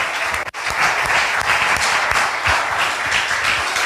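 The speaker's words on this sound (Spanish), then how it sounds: "Dale un fuerte aplauso al que vive." Loud, dense applause from a church congregation at a Sunday general service, continuous close clapping with a brief drop near the start.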